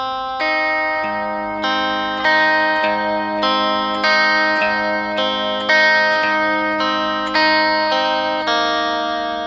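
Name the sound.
electric guitar with effects playing a song's chorus riff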